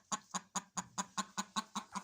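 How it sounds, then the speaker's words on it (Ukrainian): A brooding hen clucking in a henhouse, a regular series of about nine short, evenly spaced clucks, close and fairly soft, with no talk over them. "Он квочка чую."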